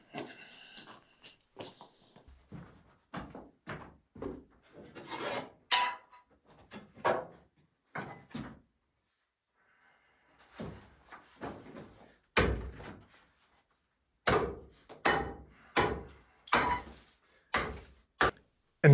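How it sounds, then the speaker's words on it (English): Concrete floor seams are chipped out by hand in a room, with sharp percussive strikes in irregular bursts separated by short pauses, close and fairly loud, and no voices. "In the morning I was working at the window end, chipping out a couple of seams."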